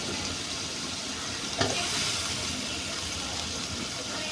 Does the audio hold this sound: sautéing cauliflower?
yes